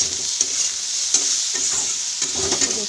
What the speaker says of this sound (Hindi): देखिए हल्की हल्की मैं इसे और फ्राई करूँगी गोल्डन ब्राउन होने तक